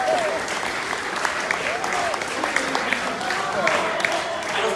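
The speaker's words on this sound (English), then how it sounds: "Please give them a round of applause." An audience applauds continuously, a dense, steady roar of clapping at even volume throughout, with some voices faintly audible beneath.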